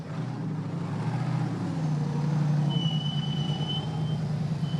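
A Miller Pro chassis off-road race truck, number 41, idles and rumbles steadily nearby as it heads out onto a short course, a low engine drone with a brief high tone partway through.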